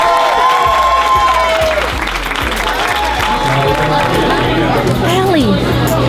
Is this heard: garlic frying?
no